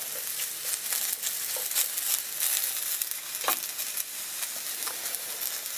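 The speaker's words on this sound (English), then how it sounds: "we basically are browning the asparagus also" Asparagus browns in a stir-fry pan with tempeh and shiitake mushrooms, giving a steady close sizzle of hot oil. Occasional clicks and scrapes of stirring break through, and no one speaks.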